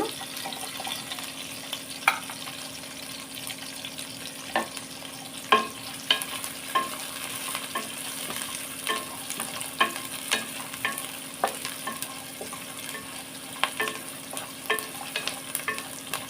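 Carrots, green peas and other vegetables fry in a pan for veg biryani, a steady soft sizzle broken by scattered scraping clicks of a spoon stirring, close and fairly quiet with no talking.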